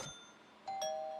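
A doorbell chimes in the video game PC Building Simulator with two clean, bright ding-dong tones, the second ringing on and sustaining, with no voices.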